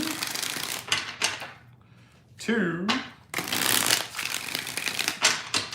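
Tarot cards for a mini reading are shuffled in quick riffling bursts, a pause midway, while a voice speaks briefly between the shuffles.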